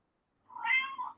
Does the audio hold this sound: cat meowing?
yes